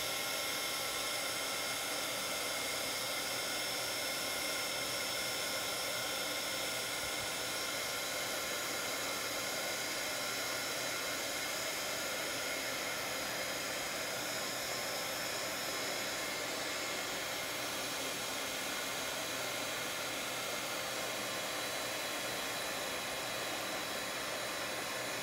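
A heat tool blows a steady, loud hiss of air from underneath a surface, an unbroken rushing drone that runs on without pause and without voices.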